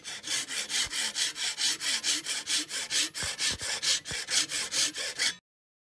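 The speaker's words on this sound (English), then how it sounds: "I'm going to use a nice hacksaw and cut that straight across." A hacksaw cuts straight across a Jeep JK Rubicon back plate clamped in a vise, with steady back-and-forth strokes at an even rhythm, close and loud, and a few sharp knocks between strokes.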